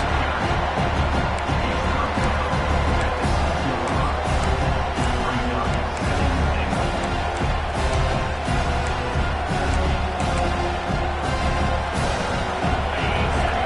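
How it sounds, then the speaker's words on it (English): Loud, dense stadium crowd noise from an NCAA 26 college football video game, a steady roar swelling with cheers near the goal line, continuous throughout with a commentator's voice faintly woven in. "And this big crowd doing everything possible to inspire this defense down here near the goal line."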